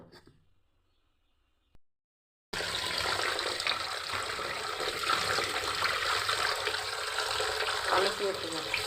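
Rinsing in a kitchen while cooking thala kari kulambu: after a quiet start and a brief pause, a steady loud gush of running water begins and continues close by to the end.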